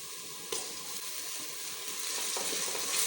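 Onions fry in a pan for a Tinda and chana dal dish, giving a steady, soft sizzle with a faint scrape or two from stirring and no voices.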